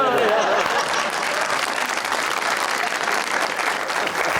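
Sustained, loud applause from a studio audience on a Pakistani television talk show, dense and steady throughout with no breaks.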